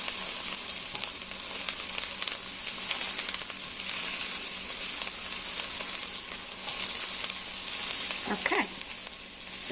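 Three cloves of chopped garlic sizzle steadily with softened onions in a pan for a Brunswick stew, a continuous close frying hiss with faint stirring sounds near the end.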